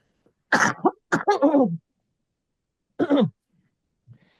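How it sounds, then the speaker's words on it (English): A person with a bad cold coughs in a few short, harsh bursts, then gives one more cough after a pause, with quiet between. "I'm going to cough."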